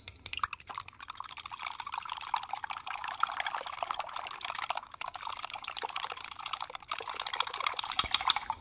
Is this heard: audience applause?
no